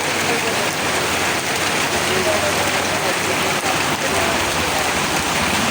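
Heavy rain pours under an overcast sky beside a road in Bangladesh. It makes a loud, close, unbroken wash of dense drops drumming on surfaces for the whole stretch.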